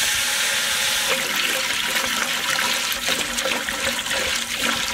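Water poured into a cooking pot for fish biryani, a steady, loud rushing splash running continuously for several seconds, close by and alone.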